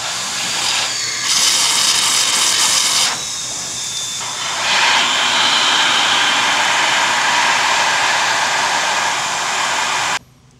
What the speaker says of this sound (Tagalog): bugahan muna natin yung sa may radiator cap ng blower